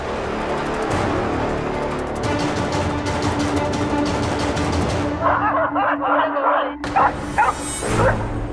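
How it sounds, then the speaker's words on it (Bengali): Several dogs bark on a television playing indoors, a run of repeated yips and barks with a whimper, loudest in the later seconds, mixed with voices and other background sound. "এই কুকুরের ডাক নিশ্চয়ই টিভি থেকেই এলো"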